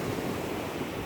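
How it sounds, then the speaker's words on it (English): Steady wind and breaking surf at Isaac Hale Beach Park in Hawaii roll on as a continuous broad wash of noise, loud and close with no talking, the microphone buffeted by gusts throughout. "Hopefully everyone can hear me with the wind and the surf break."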